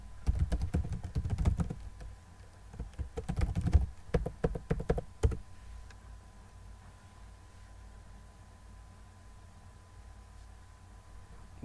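Login credentials typed on a computer keyboard, two quick bursts of close clicking keystrokes and a final key press, followed by several seconds of quiet room hiss.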